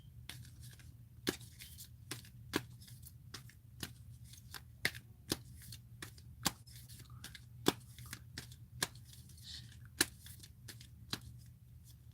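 Crystal oracle cards are shuffled by hand in a quiet room, giving a steady rhythm of crisp snapping riffles about once a second over a low background hum.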